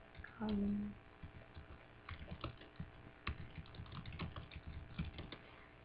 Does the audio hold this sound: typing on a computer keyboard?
yes